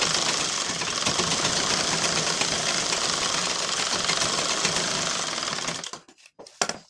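A sewing machine runs a double seam on a blouse, a fast steady mechanical whir and needle rattle that holds for several seconds, then stops with a few short bursts and clicks.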